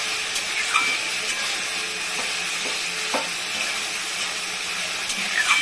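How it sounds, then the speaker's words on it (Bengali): Spices frying in oil in a pan for a Bengali fish curry with potatoes, giving a steady close sizzle with faint stirring scrapes and a few clinks, no talking. "মশলাটা প্রায় ভাজা হয়ে গেছে, মশলা দিয়ে তেল বেরিয়ে যাচ্ছে"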